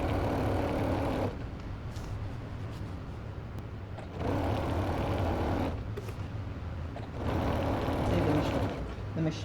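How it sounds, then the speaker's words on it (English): A sewing machine feeds a hand-embroidered quilt, running in a steady loud mechanical hum that pauses briefly twice and starts again, with a voice talking faintly under it. "The machine is managing to move the quilt."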